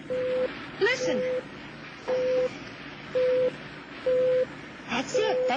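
Jimmy's radio signal tone beeps in steady, evenly spaced bursts, each about half a second long, over a hissy background, with brief voice-like sounds between some of the beeps.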